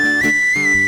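A nose whistle sounds as a thin, steady high-pitched tone held through a short moment, close and fairly loud, with faint murmuring underneath.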